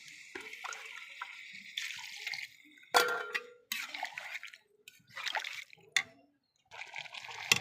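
Water poured into a pan of simmering cauliflower and chicken curry, heard as a series of close splashing, gurgling bursts separated by short pauses.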